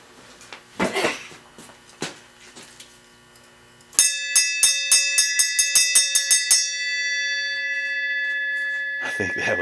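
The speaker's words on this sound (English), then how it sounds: "you want to ring the bell?" A metal bell rung in a workshop where a 350 Super Sport engine is being worked on gives a rapid run of bright clangs that leave a long ringing tail. Clattering and knocking come before it, and a voice cuts in at the end.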